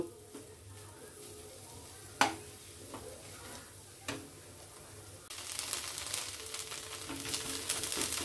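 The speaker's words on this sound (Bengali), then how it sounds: "এই সময় গ্যাসের ফ্লেমটা একদম লো করে দেব, দিয়ে আস্তে আস্তে এটাকে ভাজা ভাজা করব" Gourd leaf paste fries slowly in a pan over a low gas flame, giving a soft, steady sizzle. A couple of sharp utensil knocks cut through early on, and the frying hiss grows brighter and louder in the last few seconds.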